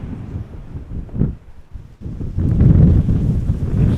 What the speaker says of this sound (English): Right now it is sunny but windy.